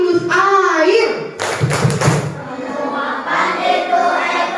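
Schoolchildren in a classroom clap their hands in rhythm for a water-cycle clap chant, with a burst of thumps and claps in the middle, while young voices chant over the clapping throughout.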